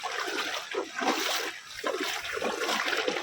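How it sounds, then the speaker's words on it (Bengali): Rain falling on a village during the monsoon, captured from under an umbrella, with a close, uneven patter and splashing of water throughout at a moderate level. "তো এই বৃষ্টির মাঝে কিন্তু আমি ছাতি নিয়ে কিন্তু ভিডিও করতেছি"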